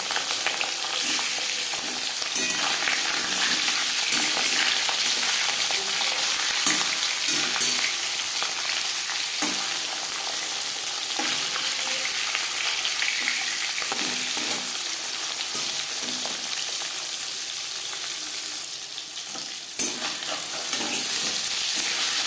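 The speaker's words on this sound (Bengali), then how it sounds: "পাঁচ চামচ রিফাইন্ড অয়েল গরম করে নেওয়ার পর দিয়ে দেবো ম্যারিনেট করে রাখা মাছ" Steady, dense sizzling of marinated fish frying in hot refined oil, a continuous crackle with occasional soft clinks and stirs, close by and with no talking.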